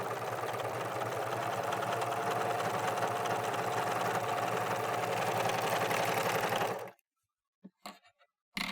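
An American Home serger overlocking fabric with a 3-thread stitch, a steady fast mechanical whir running loud and close for several seconds before stopping abruptly, followed by a few faint handling taps.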